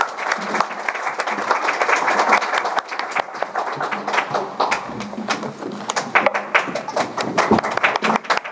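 Moderate, sustained applause fills an awards ceremony for special prize and encouragement prize recipients, with many hands clapping continuously in a hall. The applause swells and ebbs slightly before settling into scattered claps.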